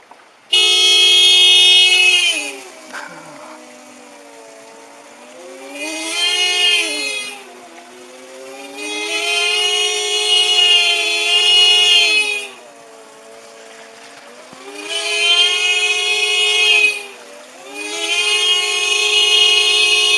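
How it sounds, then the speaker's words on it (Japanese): Car horns in Japan sound on their own during the November 2016 earthquake, blaring in long sustained blasts that waver in pitch, stopping and restarting several times, loud and near. "車のクラクションが勝手に鳴り出したようです。"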